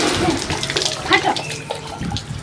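Water splashed and poured over a person while bathing, with irregular sloshing and splatter bursts close by, faint voices mixed in underneath.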